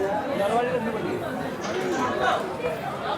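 Pilgrims thronging the winter walking route to Vaishno Devi shrine at Katra, Jammu and Kashmir, fill the air with a constant murmur of mixed voices, a busy nearby chatter that stays level and unbroken throughout.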